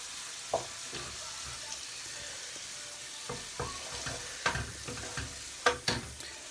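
Prawns and mixed pepper stir fry sizzle in a pan, a steady quiet frying hiss broken by sharper crackles and spatula scrapes as the food is stirred.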